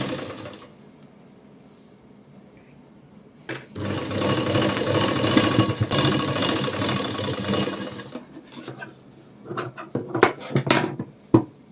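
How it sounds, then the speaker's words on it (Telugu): A sewing machine runs steadily through cotton cloth in a burst lasting about four seconds, with quiet handling before it and clicks and rustling afterward. "ఇప్పుడు నేను పైన కుట్టు వేసుకుంటాను."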